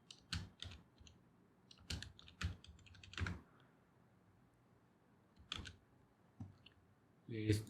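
Typing on a computer keyboard: scattered, crisp key clicks in small clusters with pauses between them, close and fairly quiet against a near-silent background.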